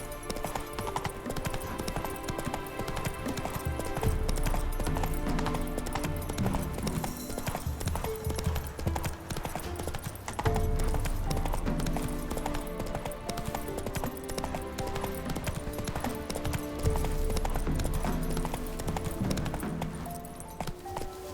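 Horse hooves clip-clop in The Witcher 3, galloping steadily under a dense bed of game music and ambience, loud and continuous throughout.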